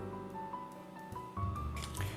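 A spoon stirs a mixture of granulated sugar, brown sugar, water, olive oil and vanilla and peppermint extracts: soft, faint wet squishing and dripping, a little louder near the end, with no talk.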